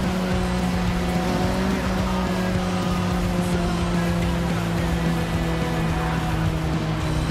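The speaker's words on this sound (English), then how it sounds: "to explore the countryside in a car" A steady video game car engine hum drones at constant pitch throughout while driving through countryside, with faint road and tire noise, no talking.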